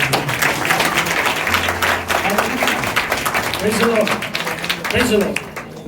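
A Hindi-speaking congregation at a prayer centre meeting claps for the Lord, a continuous crowd of hands under voices calling out and singing over it.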